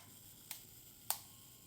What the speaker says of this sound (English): You hit the shutter, and it's like probably a 10-second timer, and the shutter releases when it